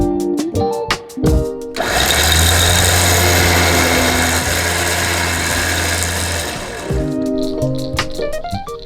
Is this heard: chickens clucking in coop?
no